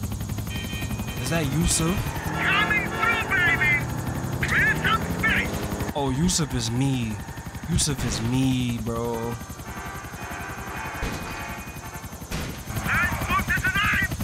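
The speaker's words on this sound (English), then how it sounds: "Another helicopter." A helicopter in Grand Theft Auto: Episodes drones steadily beneath someone talking, joined by brief game effects and overlapping voices as the rotor hum persists across the whole stretch.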